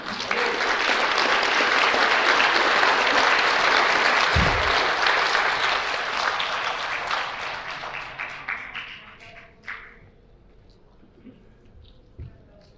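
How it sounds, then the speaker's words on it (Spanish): Audience applause at a cattle-breeding conference session in Veracruz, Mexico: sustained dense clapping from a crowd that holds steady for several seconds, then thins out into a few scattered claps before fading. "Que se escuche el aplauso"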